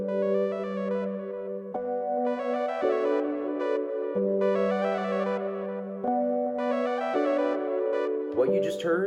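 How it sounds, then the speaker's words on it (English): Patch on a Prophet Rev 2 synthesizer, a smooth, rich keyboard sound playing sustained chords that change every second or two, steady and moderately loud, ending with a short burst of brighter noise. "What you just heard is the sound of the synth."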